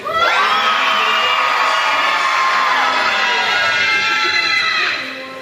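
A large group of children shouts together in a loud, sustained burst at a birthday event in a parliament chamber, the roar holding steady before fading slightly at the end.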